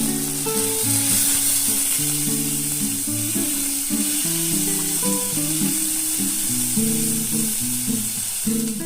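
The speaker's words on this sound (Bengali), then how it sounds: "এর সাথে আমি টমেটোমো দিয়ে দিলাম এর সাথে সামান্য একটু নুন দিয়ে আমি এটাকে ভাজা ভাজা করে নেব" Tomatoes with a little salt fry in a pan for masoor dal, giving a constant bright sizzling hiss beneath melodic background music.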